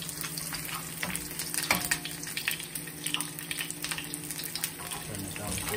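Beef sizzles steadily in a pan while Filipino bistek cooks, a soft continuous frying crackle with faint clicks and a low background hum.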